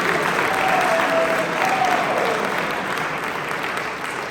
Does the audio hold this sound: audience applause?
yes